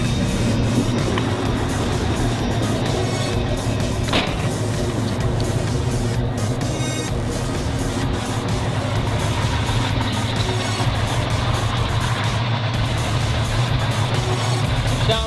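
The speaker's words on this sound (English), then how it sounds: "Throaty sound and big block." A 1971 Dodge Challenger R/T with a 440 big-block V8 runs steadily at idle, a loud, throaty, continuous rumble close by with no pauses.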